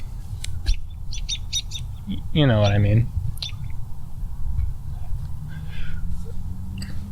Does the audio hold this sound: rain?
no